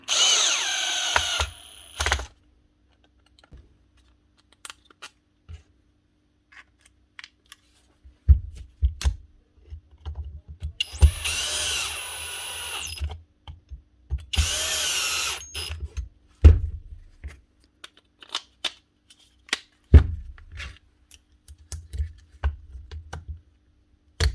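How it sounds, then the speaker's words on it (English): During a power tool repair, a power drill drives screws in two longer whirring bursts among brief spurts, clicks and handling knocks, with near-silent gaps between them. "There's just a little bit of screwing to go with it."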